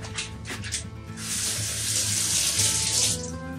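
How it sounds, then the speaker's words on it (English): Water runs steadily from a tap as hands are washed, a close, full rushing splash that swells and holds for a few seconds with no talking. "So let me wash my hands real quick."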